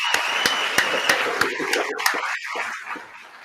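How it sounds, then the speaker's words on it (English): A small audience claps for Anthony in a studio setting, with a few sharp, evenly spaced claps that thin out toward the end. "Clap it up for Anthony in the building."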